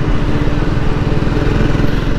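Triumph Speed T4 cruiser motorcycle engine and exhaust note, a steady, close, loud throbbing idle-like rumble with an even low pulse and no talk.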